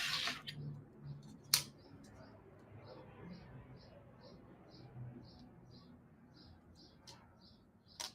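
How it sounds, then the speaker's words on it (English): A die cutting machine cuts out paper craft pieces, giving a regular series of soft, evenly spaced clicks at close range, with a couple of sharper knocks and some quiet background talk. "let's die cut this out."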